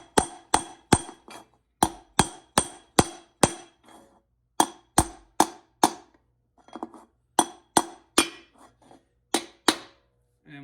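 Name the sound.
tapping transmission piston to seat it with output shaft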